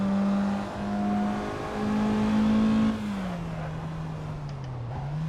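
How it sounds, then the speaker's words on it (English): Race car engine in a racing video game humming at steady revs, then easing off and dropping in pitch as the car slows, with a faint squeal near the end. "Let's go for a little drive in this car."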